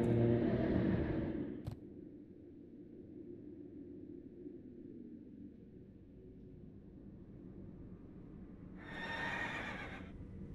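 A horse in World of Warcraft whinnies loudly at the start, then a low rumbling ambience follows, and a second shrill neigh rises near the end.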